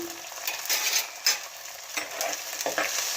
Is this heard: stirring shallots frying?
yes